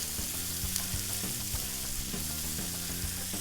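Vegetables sizzle steadily in a preheated pan, a dense continuous hiss with faint clicks underneath, close and even throughout.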